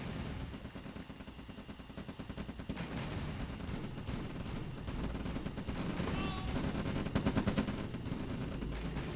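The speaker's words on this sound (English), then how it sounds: "APCs and flak trucks battling it out." Real-time strategy battle with APCs and flak trucks trading fire: dense, continuous rattling gunfire and bursts of explosions, steady and busy throughout, with faint voices underneath.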